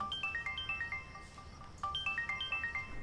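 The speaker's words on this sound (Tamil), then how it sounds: "அங்கேருந்து ஒரு ஃபோன் ரிங் ஆச்சு." A mobile phone ringtone rings in a building under construction, playing two bursts of a bright, repeating melodic pattern separated by a short gap, fairly quiet with no talk over it.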